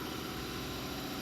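A Chevrolet Camaro SS with a 5.7-litre V8 idles steadily, a continuous low rumble with even engine vibration and no voices over it.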